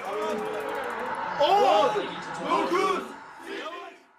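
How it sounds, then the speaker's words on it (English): Turkish football fans at a match roar and chant in swelling, overlapping waves of shouting voices, with several surges in volume before the noise fades away. "Turkish football fans are always a passionate, noisy crowd"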